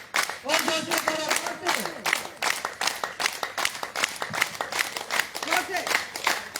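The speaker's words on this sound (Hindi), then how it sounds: "हाथों को खोलते हुए, उंगलियों को मिलाते हुए प्रॉपर तरीके से जोर से ताली बजाएं, जोर से" A yoga class claps hands loudly together in a fast, steady stream of sharp claps over several seconds, while an instructor's voice talks over the clapping throughout.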